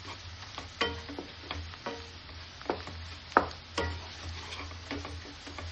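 Mushroom masala frying in a pan with chili powder and turmeric, a soft sizzle under intermittent clinking stirs and scrapes of a spoon, close and moderately quiet.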